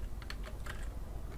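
Rapid keystrokes on a computer keyboard while entering a folder name at a command line, a quick close run of light clicks with no talk.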